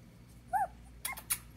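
A young dog whimpers indoors, one high thin whine followed by a couple of quieter squeaky yelps, faint and close over a low hum.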